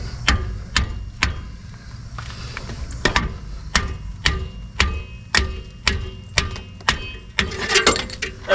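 Working a brake caliper off a 2010 Chevy Suburban 1500 brings a rapid series of about fifteen sharp metallic clicks, a ratchet wrench cranking at close range in a steady rhythm, with no talking.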